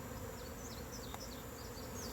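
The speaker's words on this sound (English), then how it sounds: "it's a lot of confused bees anyway." Confused honey bees buzzing around the spot where a hive body was moved away, a faint steady insect drone with a few individual bees whining past close by.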